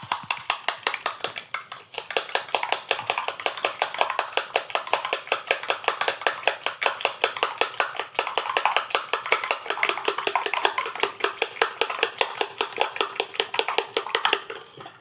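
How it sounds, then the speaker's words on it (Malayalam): A fork beats eggs with salt rapidly against a bowl, a fast, even clatter of light taps that keeps up throughout with no voices. "ഉപ്പ് ആവശ്യത്തിന് ഉപ്പ് നന്നായി അടിച്ചെടുക്കാം"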